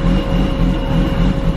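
A 1989 BMW E30 engine runs steadily in gear after a manual swap, a loud droning rumble with a constant whine laid over it, lasting the whole short moment with no talking.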